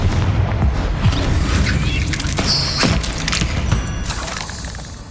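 Confringo explosion spell cast in the video game Hogwarts Legacy, a loud sustained blast with booming low rumble and crackling bursts over busy game ambience, no speech.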